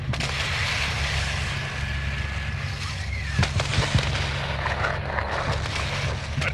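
Combat in Call of Duty Modern Warfare II, with a dense din of gunfire and several sharp explosive bangs near the middle, all over a constant rumbling background.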